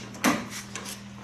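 A Jeep door shuts once with a single sharp thud followed by a faint rattle, heard alone against a low steady hum.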